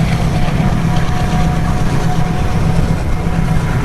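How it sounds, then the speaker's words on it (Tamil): A heavy goods train rolls past on the railway, a steady loud low rumble with a faint tonal whine above it, continuous and close, with no voices. "பாருங்க இந்த ட்ரெயின் போகுது, பூட்ஸ் ட்ரெயின்."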